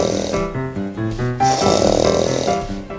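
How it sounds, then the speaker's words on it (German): Loud, rhythmic snoring from a sleeping person, several rasping snorts in quick succession, close and alone without talk. "kennst du jemanden, der so laut schnarcht?"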